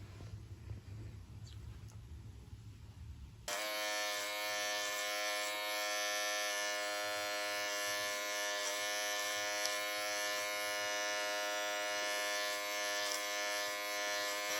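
Electric hair clippers switch on and buzz steadily up close while cutting hair clipper over comb, a loud constant electric hum after a few seconds of quiet rustling.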